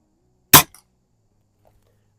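One crisp, isolated shot from a Beeman R7 air rifle at range targets, a sharp near pop with a tiny echo tick just after, then silence.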